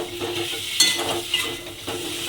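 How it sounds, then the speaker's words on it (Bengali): Fried pointed gourd is stir-fried into a vegetarian vegetable curry in a hot pan, with a continuous close sizzle and a few distinct spatula scrapes and stirs. "ভাজা পটলটা আমি এর মধ্যে দিয়ে দিলাম দিয়ে আবারও খুব ভালোভাবে একটু কষিয়ে নিতে হবে"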